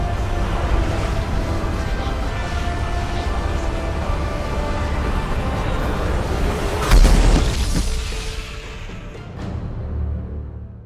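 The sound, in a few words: explosion in the video game Mass Effect 2 Legendary Edition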